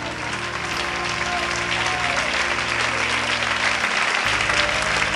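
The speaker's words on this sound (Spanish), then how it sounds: "Dele un aplauso al Rey." A church congregation applauds steadily and loudly during a worship service, a dense wash of clapping filling the whole moment.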